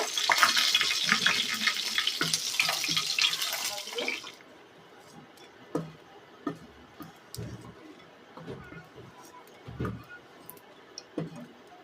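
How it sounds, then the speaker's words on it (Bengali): Dry red chillies, cardamom and cloves hit hot oil with a bright, steady sizzle for about four seconds; the hiss then drops away, leaving scattered soft clicks and taps from stirring in the pan. "আগে আমি এলাচ আর লবঙ্গটা দিয়ে দেব তেলের উপরে, আর শুকনো লঙ্কাটাও ভেজে নেব"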